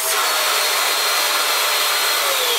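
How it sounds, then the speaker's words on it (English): A Dyson DC24 vacuum cleaner motor runs partly disassembled during a cleaning repair, a loud, steady high-pitched whir that holds evenly from start to finish. "Now let's see if there's actually suction from the motor here."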